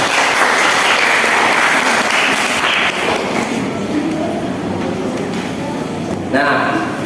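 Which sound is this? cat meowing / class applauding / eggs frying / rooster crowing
class applauding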